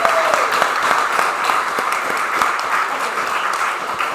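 An audience at a spring league awards night applauds an award recipient, with steady, dense clapping that holds at an even level throughout and has a few sharper claps standing out.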